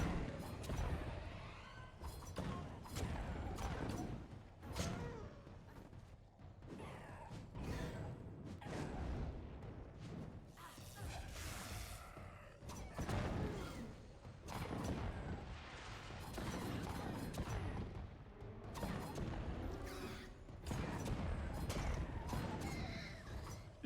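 Daggers in Kingdoms of Amalur land repeated quick, sharp impacts with small bursting pops, irregular and close, mixed with whooshing swings and clanking combat noise.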